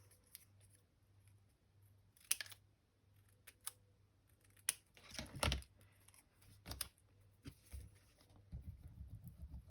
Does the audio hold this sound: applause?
no